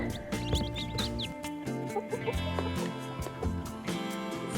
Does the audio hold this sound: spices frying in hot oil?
no